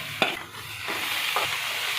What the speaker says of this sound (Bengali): ভাজা হচ্ছে পেঁয়াজ রসুন আর শুকনা মরিচ একসাথে